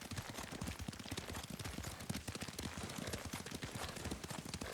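Rapid, continuous hoofbeats of a galloping horse in the video game Ghost of Tsushima, a dense clattering rhythm that stays close and steady throughout.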